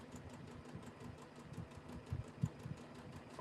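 A sewing machine stitching a fabric potholder cover, a faint, rapid, steady mechanical chatter with a low motor hum, close but quiet, with no voices.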